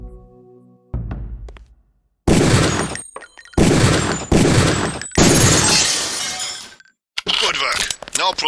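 Gunshots on a rifle range in the video game Deus Ex: several loud, sharp bursts in close succession with short gaps between them, and a voice speaking in between.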